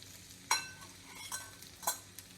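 Tomatoes and curry leaves cook down in a pan for a curry leaf tomato chutney, a soft steady sizzle broken by three sharp spoon-stirring scrapes against the pan, close and fairly quiet with no talking.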